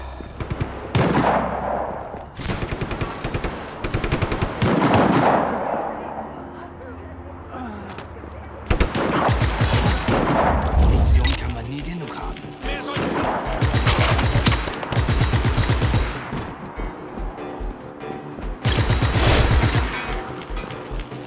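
Bursts of rapid gunfire and single shots crackle through a Just Cause 3 game scene, with a loud impact midway and stretches of quieter rumble between volleys.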